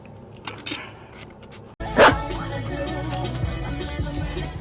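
A dog barks loudly once at close range at a dog park, followed by steady outdoor background noise and faint voices.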